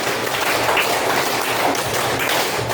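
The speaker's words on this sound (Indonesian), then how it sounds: "Tepuk 5 2 kali." Students in a school classroom clap a five-clap pattern twice over, continuous rapid group clapping at even volume with no pause.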